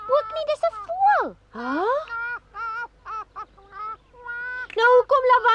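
A voice actor imitates a cartoon bird, honking and squawking in a quick run of loud, nasal calls that swoop up and down in pitch, close and unaccompanied.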